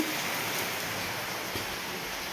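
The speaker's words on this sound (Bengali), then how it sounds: "আজকে সারাদিনই কত বৃষ্টি পড়তেছে" Heavy rain pours steadily during a cyclone, a dense continuous hiss with gusty wind, fairly faint and unbroken with no voices.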